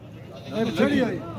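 A sheep at a livestock trading farm gives one wavering, drawn-out bleat that rises and fades over about a second, fairly close, with background chatter.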